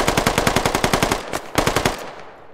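A British gun with a pistol grip and bipod firing in a video game: a fast automatic burst of about a dozen close, loud shots, a single shot, a short second burst, then a fading echo.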